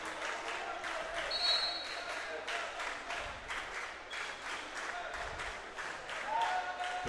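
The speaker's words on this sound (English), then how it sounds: "The bench starting to clap." Bench players at a men's college volleyball match between Franklin and Mount St. Joseph clap steadily in a rhythmic pattern, heard over gym crowd noise and a commentator talking.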